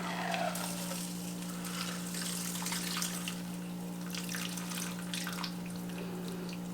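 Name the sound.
cocktail double strained from shaker into glass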